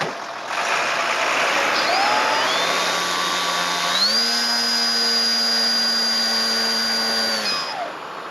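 Aircraft engine running during repair work, a loud steady whine that rises sharply in pitch partway through, holds high, then drops at the end, with no talk over it.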